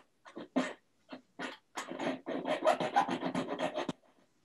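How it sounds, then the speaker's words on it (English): A metal file works a jewelry claw setting formed with doming blocks and collet plates, in close, dry rasping strokes that start sparse and then run in a quick, steady rhythm before stopping; no voices. "you're always going to have to go back in with the file"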